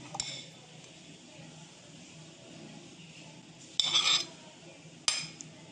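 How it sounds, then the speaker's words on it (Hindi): Chopped, cooled carrots are dropped into a mixer grinder jar, giving two short, bright clinks and a rustle against a quiet kitchen background. "सभी कट किए हुए गाजर को हम मिक्सी के जार में डालेंगे।"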